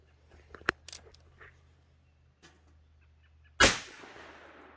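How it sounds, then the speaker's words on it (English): A single sharp gunshot cracks close by, shooting a trapped possum in the head, followed by a brief ringing decay; a few quieter clicks and rustles come before it in an otherwise quiet setting. "Now that was a headshot."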